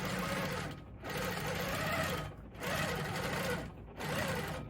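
A longarm quilting machine stitches the lining of a casserole carrier, a steady close mechanical whir running in long bursts with short pauses between passes.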